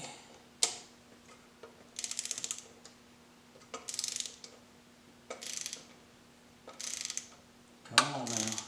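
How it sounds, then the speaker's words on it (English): A torque wrench ratchets in short repeated bursts while tightening a cylinder head bolt on a 2000 Mustang engine, clicking runs spaced about every second or two, close and fairly quiet, ending with a sharper metallic clunk. "I've got my little torque wrench set up here, and we will do number 1."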